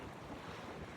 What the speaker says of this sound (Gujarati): જબરજસ્ત પવન ફૂંકાઈ રહ્યો છે.